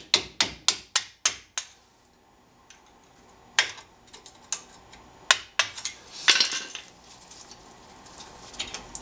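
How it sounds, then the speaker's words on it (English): Sharp metallic hammer strikes knock out brake pad retaining pins on a Mitsubishi Evo during a rotor and brake job: a rapid run of six loud blows, then a pause and scattered irregular taps and clinks. "Just knock out these 2 pins, one up top,"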